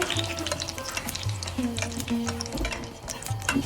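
Dried red chillies fry in hot oil for dal with raw mango, a steady close crackle and sizzle with scattered bright pops and light utensil scrapes throughout.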